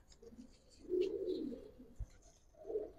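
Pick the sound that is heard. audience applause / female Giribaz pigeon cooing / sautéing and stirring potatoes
female Giribaz pigeon cooing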